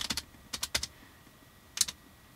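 Password typed on a Mac computer keyboard: a quick run of crisp, close key clicks in small clusters, a short pause, then a final pair of taps.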